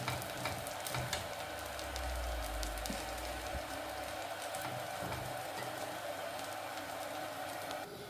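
Millet sambal dosa sizzling and frying on a hot pan, a steady dense crackling hiss that runs on without pause, close and even.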